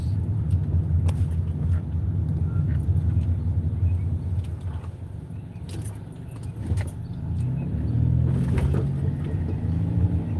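A lowered car rolling over small road bumps, a steady low cabin rumble with occasional rattling knocks and jostles, close and continuous, no voices.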